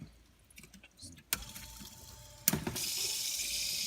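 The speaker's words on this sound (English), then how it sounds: "start the flow of the water by opening up this valve and turning on the booster pump" Water begins running from an RODI filtration system with a booster pump switched on for a saltwater quarantine tank setup, a couple of clicks followed by a steady rushing flow that starts abruptly and continues.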